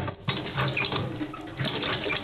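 Old green hand water pump in an early-1900s kitchen gushing water, a steady splashing pour that runs continuously and fairly close, with no voices.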